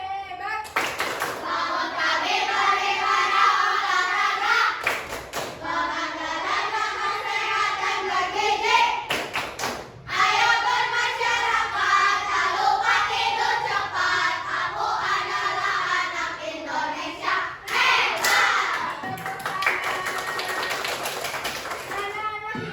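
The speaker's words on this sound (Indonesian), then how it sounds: "Tepuk anak Indonesia hebat" Fifth-grade schoolchildren chant the 'tepuk anak Indonesia hebat' clapping routine in class, with rhythmic group hand claps punctuating loud, continuous children's voices and a few brief pauses between phrases.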